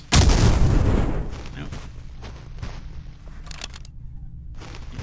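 Gunfire at hay barrels in the retro shooter Cultic opens with a heavy, booming blast that rumbles and fades over a second, followed by a few fainter thuds while a voice speaks briefly.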